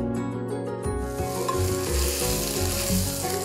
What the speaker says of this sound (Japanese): 片栗粉とサラダ油をまぶしたらお肉を炒めます。